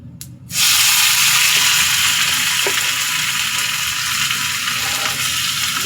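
Onion paste for prawn malai curry hits hot oil and breaks into a loud, steady sizzle that starts abruptly and holds continuous and close throughout, with no voices.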